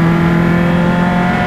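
Single-seater SCCA race cars run at Mid-Ohio, their engines a loud, steady, high-pitched drone held close and constant through the brief moment, with no talking over it.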